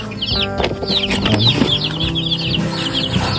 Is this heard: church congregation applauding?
no